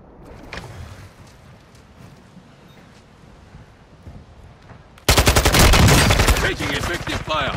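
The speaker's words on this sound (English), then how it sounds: "Taking effective fire." Automatic gunfire in Call of Duty MW2 Resurgence, bursting in loud and sustained rapid fire that drowns everything after quieter ambient movement and distant shots.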